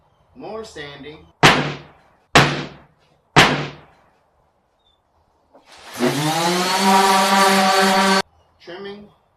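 Wooden shoe rack boards are power sanded in a steady, buzzing drone lasting a couple of seconds, preceded by three sharp, loud wooden knocks and some faint handling noise.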